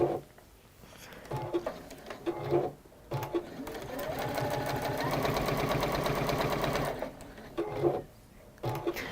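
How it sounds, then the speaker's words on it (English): A sewing machine top stitches around the outside edge of fabric, a fast, even mechanical whir that runs steadily for several seconds, framed by short bursts and pauses, with a voice talking softly at times. "I am going to top stitch all around here, Around the outside."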